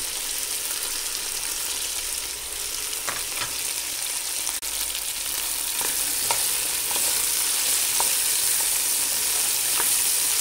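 Garlic, ginger and chili frying in oil for a Pakistani biryani, a steady bright sizzle throughout with a few soft stirring clicks and scrapes, close and even, no talking.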